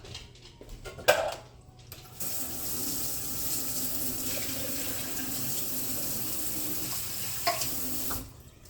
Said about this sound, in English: I'm going to drain my corn.